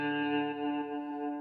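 Electric guitar through a fast, Memory Man-style delay plugin from Avid, a sustained chord ringing with dense repeats and a chorus-like shimmer, heard alone at moderate level.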